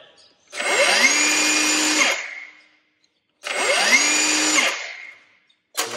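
Milwaukee M18 metal cutting circular saw with a fresh 5.0 battery, run with no blade: two close whining spin-ups, each held about a second and a half, then braked to a quick stop, with a third start at the end.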